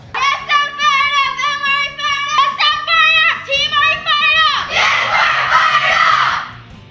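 Children loudly yell a team pump-up cheer in unison at a school event, with rhythmic chanted phrases that build into a burst of crowd cheering and screaming at the end.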